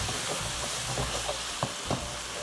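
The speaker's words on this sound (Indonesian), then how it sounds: "Kalau udah kita aduk-aduk." Spice paste for Betawi nasi uduk, with palm sugar and salt added, is stirred in a pan, giving a steady close sizzle broken by several soft scraping strokes.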